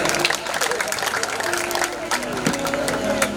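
An audience at a stage show featuring a singer breaks into sustained applause, a dense, steady patter of many hands clapping throughout, with voices and a brief tonal musical note audible in the background.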